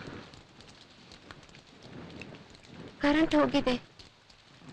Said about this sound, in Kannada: ಸಿಕ್ಕಾಪಟ್ಟೆ ಮಳೆ ಅಲ್ವಾ